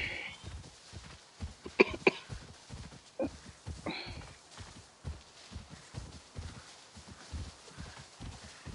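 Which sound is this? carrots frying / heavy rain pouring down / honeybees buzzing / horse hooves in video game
horse hooves in video game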